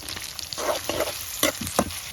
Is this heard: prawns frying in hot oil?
yes